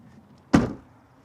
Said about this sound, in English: Gotta shut the tailgate manually.